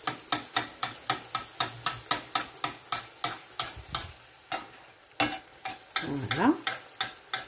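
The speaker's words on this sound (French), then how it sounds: "Regardez, on jette l'huile sur le beignet." Sfenj dough fries in hot oil while oil is spooned over it, making a steady sizzle cut by a regular run of sharp scraping clicks, then a brief pause and a short spoken word near the end.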